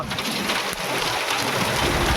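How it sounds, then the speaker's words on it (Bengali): Heavy rain mixed with hail pours down steadily during a three-hour storm, with a dense, continuous roar of drops and pellets striking surfaces close by and no voices. "টানা 3 ঘন্টা ধরে বৃষ্টি হচ্ছে।"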